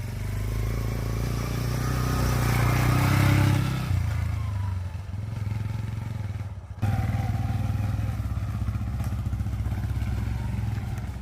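A Yamaha TW 125 motorcycle with fat tyres rides a tight mini cross track, its small single-cylinder engine droning steadily and close throughout, swelling around the third second, then easing, with a brief dip before resuming its even hum.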